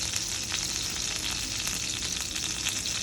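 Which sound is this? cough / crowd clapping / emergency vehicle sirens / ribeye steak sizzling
ribeye steak sizzling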